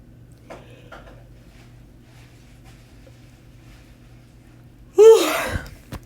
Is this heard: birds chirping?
no